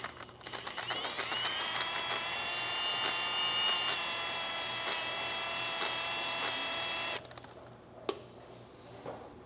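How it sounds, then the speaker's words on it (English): Sleeves from a 1941 Caterpillar D4600 diesel engine held in a vise and honed with motor oil as lubricant, giving a steady buzzing, grinding whir with rhythmic ticks for about seven seconds before it cuts off, then faint clunks. "I think I'm gonna try to hone a couple of the sleeves now and see how that goes."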